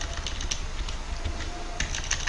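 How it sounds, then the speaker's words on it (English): Typing on a computer keyboard while composing a welcome post during a Classting user guide walkthrough, with irregular clusters of light key clicks over a low background hum, close and moderately quiet, no talking. "I'm going to be typing welcome to Classting."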